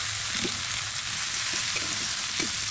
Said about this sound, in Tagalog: Ilagay natin ang kalbasa.